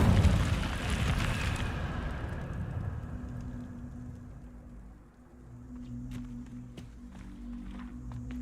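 Casting the Incendio fire spell in Hogwarts Legacy gives a loud whooshing, crackling burst of flame that fades over a few seconds into a low hum with faint clicks and small effects.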